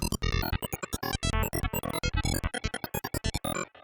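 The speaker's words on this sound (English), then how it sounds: "Now let's add movement to the sound by modulating the pitch of the first oscillator." Fast Viper synthesizer arpeggio with bright, buzzy notes whose pitch wobbles and shifts as an LFO modulates the first oscillator, dense and loud, with no talking.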